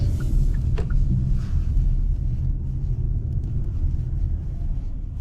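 A 2022 Hyundai Santa Cruz SEL AWD pulls away from a stoplight, its engine a steady low rumble heard from inside the cabin, with road and tire noise holding even throughout and no voices.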